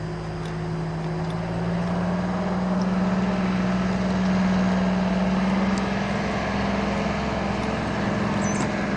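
A water truck runs nearby at a horse show, giving a steady low engine drone with a faint tonal hum that swells slightly and then holds, with no talking over it.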